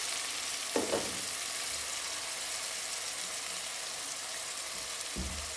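Onions frying in a lidded pan after about eight minutes of cooking, giving a steady, even sizzle throughout with a couple of brief clatters, close and unaccompanied by talk.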